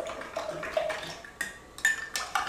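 A spoon stirs water kefir with a pinch of bicarb soda in a glass jar, giving a few close, light clinks and scrapes against the glass.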